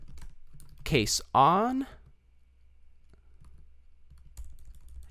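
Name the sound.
typing code on computer keyboard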